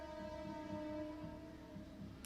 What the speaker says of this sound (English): Trains passing by as well.